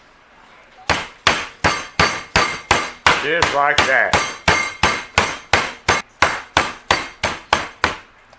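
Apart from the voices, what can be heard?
meat hammer pounding chicken under plastic wrap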